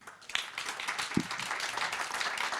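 An audience at a business forum in Hong Kong applauds, a steady patter of many hands clapping at moderate distance that keeps up through the whole short stretch.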